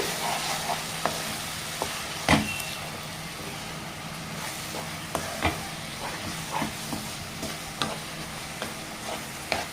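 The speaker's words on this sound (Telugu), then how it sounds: "ఇప్పుడు దీన్ని కూడా పచ్చివాసన అనేది రాకుండా ఫ్రై అనేది చేసుకోవాలి" A paste of ginger, garlic, poppy seed, cumin and coriander fries in a pan with a continuous close sizzle, punctuated by scattered scraping and tapping clicks of stirring.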